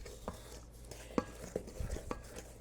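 Cinnamon caramel square batter mixed by hand in a bowl, a few soft irregular scrapes and knocks of the utensil against the bowl spread over a couple of seconds, quiet with no talking.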